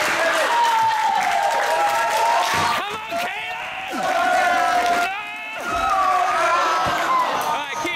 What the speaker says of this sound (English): Everyone's clapping, I don't know why.